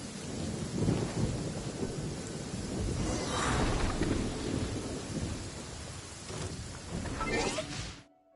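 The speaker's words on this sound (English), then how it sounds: "it's just thunder and lightning" A loud video-game thunderstorm rumbles with rolling thunder over steady heavy rain, cracking and swelling several times before cutting off abruptly.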